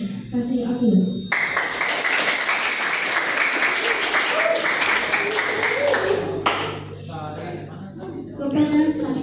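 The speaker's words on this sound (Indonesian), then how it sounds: "Kasih aplaus." A school audience bursts into applause for a student council candidate at a junior high debate: sustained, dense clapping that swells, holds steadily for about five seconds, then stops abruptly, with talk before and after.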